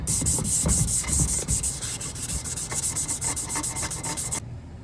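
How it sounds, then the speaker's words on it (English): Hand sanding of a polished exhaust pipe with 1000-grit sandpaper for a 6.0 Power Stroke build, a loud rapid back-and-forth rubbing in close strokes running steadily until it stops abruptly near the end. "I'm gonna hit it with some 1000 grit by hand and just see what it looks like"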